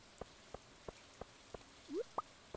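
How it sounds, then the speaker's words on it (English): Light game rain in Stardew Valley falls as faint, evenly spaced soft drip taps at a slow steady rhythm, with a brief rising chirp near the end and no voices. "Interesting that the rain persisted over the blackout screen there."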